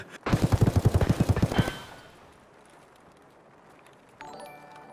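Rapid automatic gunfire from the video game Escape from Tarkov, a loud close burst of about a dozen shots lasting just over a second, followed by a quiet tail and faint game ambience.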